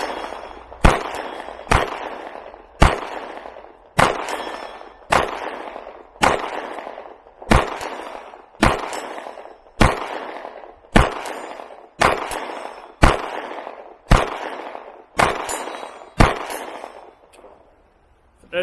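A CZ P10c pistol fires around fifteen sharp, loud shots at an evenly spaced pace, each a crisp crack followed by a brief echo.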